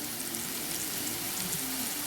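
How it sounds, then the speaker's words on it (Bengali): Potatoes fry in a pan, a soft, even, continuous sizzle close by with no voices. "আলুটা একটু সুন্দর করে ভাজতে হবে, একটু লাল লাল করে"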